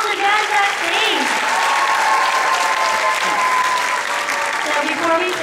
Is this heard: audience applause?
yes